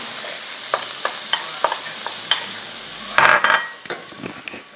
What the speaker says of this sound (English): What I'm going to do is I'm going to go ahead and add the garlic.